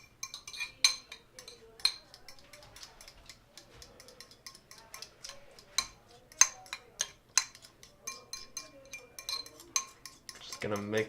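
A utensil whisks eggs in a bowl, thinned down to break up lumps, producing a close series of light, irregular clinks and taps against the bowl's side, with sharper strikes near the end.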